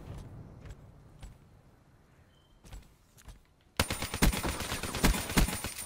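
Rapid automatic Man o' War rifle fire in the Black Ops 3 video game, a dense burst of close shots starting abruptly after a few scattered quieter hits.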